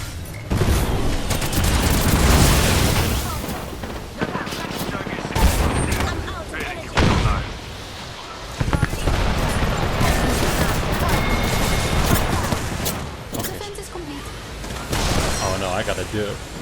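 Video game gunfire crackles in dense bursts and rapid automatic volleys with heavy booms, loud and nearly continuous, while a player talks over it.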